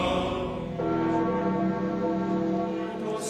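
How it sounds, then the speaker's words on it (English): Church bells toll at the Pope's funeral as his casket is carried from the chapel of his residence, a sustained, resonant metallic ringing with rich humming overtones that swells and lingers without pause. "Pope Francis's casket was carried from the chapel of his residence as the bells toll for the 88-year-old Pope."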